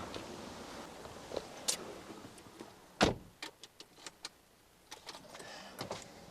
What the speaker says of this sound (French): je déverrouille ma voiture et je monte dans la voiture